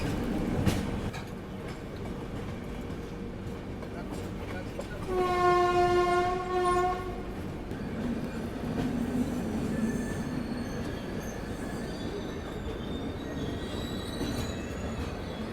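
A passenger express train pulls into Itarsi Junction railway station in the evening, with steady rumbling and clattering of wagons, a long horn blast midway, and continuous station noise around it.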